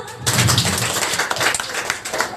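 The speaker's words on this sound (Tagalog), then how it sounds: "Kapag nakaranas, palakpak nga ng malakas" A church congregation at a Sunday celebration service claps loudly together, a dense burst of hand claps that starts abruptly and carries on steadily for a couple of seconds.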